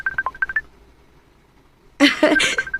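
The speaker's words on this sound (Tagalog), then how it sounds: "Nitingog mo yung cellphone nimo." A cellphone rings with a series of short electronic beeping tones, a pause, then a louder burst of tones and noise, close and clear.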